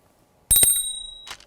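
A bright notification bell chime rings out sharply at the start, its sustained high ring trailing off, followed by a short second chime near the end.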